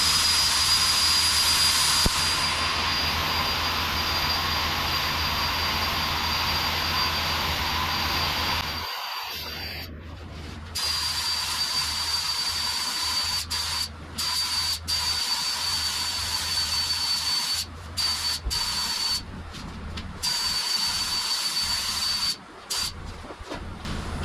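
A spray gun lays down a transparent tri-coat pearl car paint in a long, loud, steady hiss, broken by several brief gaps where the trigger releases, then resuming.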